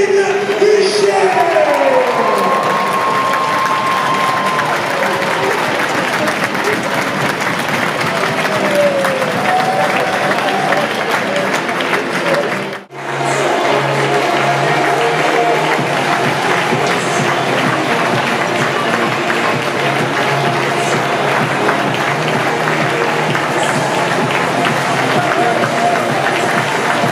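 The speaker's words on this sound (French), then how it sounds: "Applaudissements notre numéro 8, Kevin Michel." Sustained crowd applause fills a large, echoing ice hockey arena, with cheering mixed in; the clapping dips briefly midway, then resumes at full strength.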